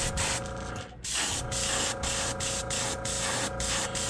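Spray paint hissing onto a wake bait fishing lure in steady bursts, close and fairly loud, each pass broken by short pauses.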